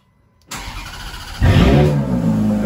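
A Ferrari V8 with its exhaust valves bypassed fires up from cold: after a moment of near silence a starter whirs, then the engine catches with a loud bark and settles into a rough, heavy idle.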